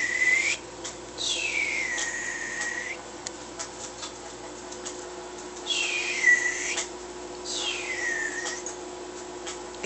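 Someone tries to whistle while calling a dog, producing three or four thin, breathy whistle tones that rise and fall, each lasting about a second with gaps between, close and fairly clear over a low steady background hum.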